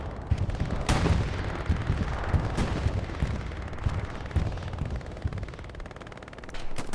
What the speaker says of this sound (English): This is going to be a Axis bombing run going over Hill 5